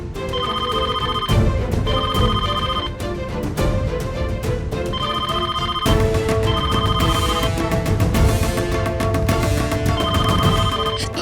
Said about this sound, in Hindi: फोन उठा मेरी माँ